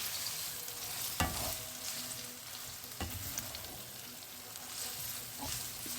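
Food fries in a pan during a home lunch of spaghetti, empanadillas and nuggets. A quiet steady sizzle runs throughout, with a few sharp utensil scrapes and knocks as it is stirred.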